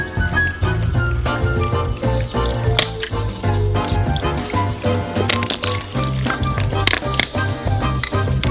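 Beer from a can is poured into a metal baking tray for marinated ribs, a steady close-up splashing and gurgling stream with small taps and drips throughout.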